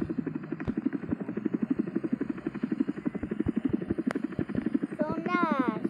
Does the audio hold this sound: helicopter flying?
yes